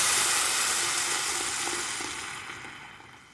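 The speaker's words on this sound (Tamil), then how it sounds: "இப்போ நான் அரைச்சி வச்சு அந்த கீரையை இதில் ஊற்றிக்கிறேன்." A ground palak spinach paste hits a hot pan over tempered moong dal, setting off a loud, bright sizzle that hisses steadily and slowly fades as the paste settles, with no voices.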